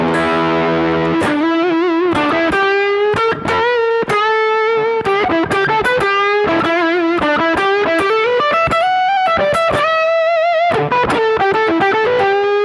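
Electric guitar driven through a Fairfield Circuitry fuzz pedal into a Milkman The Amp 50, playing a gnarly, heavily fuzzed melodic line of sustained notes and choppy picked stabs, loud and alone.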